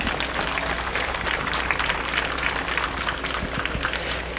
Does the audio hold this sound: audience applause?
yes